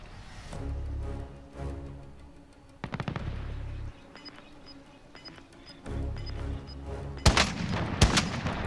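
Bursts of SMG Grau gunfire in Call of Duty: Warzone, several sharp rapid volleys separated by short pauses, with faint pings in between.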